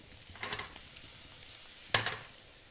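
Sweet potato gnocchi land in a hot pan with a couple of soft plops and a sudden sizzle burst near the end, over a steady background fry with faint stirring.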